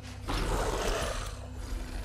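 Weapon reloading in Resident Evil Village, a short burst of mechanical clicks and sliding metal parts, moderately loud against a low game ambience.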